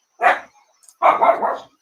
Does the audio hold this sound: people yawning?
no